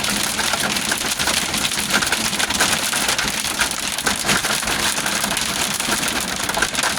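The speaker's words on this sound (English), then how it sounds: "you see all that hail?" Dense hail pours down steadily, a continuous broadband rattle and patter on hard surfaces with no pauses, loud and close throughout, with no voices over it.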